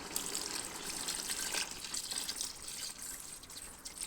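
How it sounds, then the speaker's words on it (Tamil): Water splashing and trickling steadily, close by, as it is poured into a pot of chicken biryani; no voices. "அதுக்கு மேலே தான் நீங்கள் தண்ணி ஊற்றணும்"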